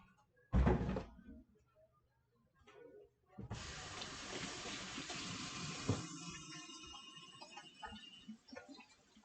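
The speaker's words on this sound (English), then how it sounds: "Really put my hands in soapy water" Hands plunge into soapy water in a household sink while an ashtray is washed: a sudden splash, a lull with small clinks, then a steady run of sloshing and pouring water with occasional knocks, fairly quiet and close.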